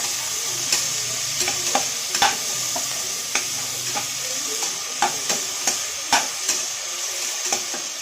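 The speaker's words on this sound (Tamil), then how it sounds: "சேர்த்துட்டு இதையும் நல்லா ஒரு கைவிடாமல் ஒரு 5 நிமிஷம் நல்லா கிண்டி விடுங்க." Chopped tomatoes frying in oil in a pan for a vegetable biryani, stirred constantly: a continuous close sizzle broken by a regular series of sharp spatula scrapes and taps, with no voices.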